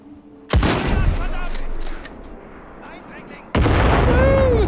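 Gunshots in Indiana Jones and the Great Circle: two loud, booming shots about three seconds apart, each with a long reverberant tail, the second followed by a faint whistling tone.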